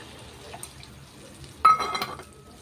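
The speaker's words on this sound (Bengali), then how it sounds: "এটা পেঁয়াজ দিয়ে দিচ্ছি, জল দিয়ে দিচ্ছি।" Water poured into a cooking pan with onions, a short splashing pour roughly midway that trails off, fairly soft and with no talking.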